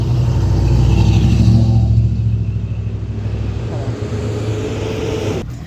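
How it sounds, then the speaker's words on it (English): A school bus rumbles past on a road, a loud low engine drone that peaks early and fades gradually as it moves away. "School bus."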